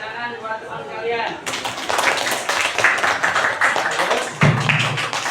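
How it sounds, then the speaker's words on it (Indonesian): A school class clapping for their classmates, a burst of many hands applauding close by for several seconds after a teacher's voice speaks in Indonesian. "Tepuk tangan buat teman kalian."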